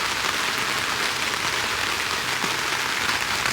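Rain pouring down at a cold, foggy mountain campsite, a dense, steady hiss of drops striking surfaces close by, fairly loud and unbroken, with no one talking.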